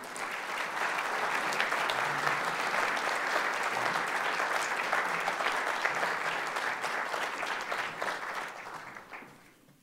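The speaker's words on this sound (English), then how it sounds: "Thanks for that applause" A dense crowd at a Hall of Fame ceremony applauds the Ralph Ginn Award winner for coaching excellence, with loud, sustained clapping that holds steady and then tapers off toward the end.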